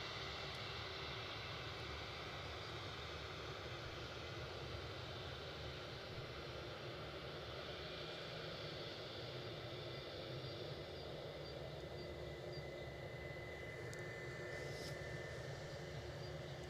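Airliner at Newcastle Airport, a continuous distant jet engine roar, steady and low-level throughout with broad rumble, heard alone without speech.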